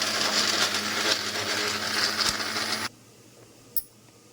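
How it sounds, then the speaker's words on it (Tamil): A mixer grinder grinding nuts whirs loudly for a few seconds, then cuts off abruptly, leaving quiet with a brief clunk near the end. "இப்போ முதல்ல இதை அரைச்சிக்கலாம் மிக்ஸி ஜாரில்."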